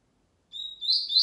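A female coleiro, the double-collared seedeater, gives short, high, thin chirps: two quick tweets after a moment of silence, clear and close, with no other sound.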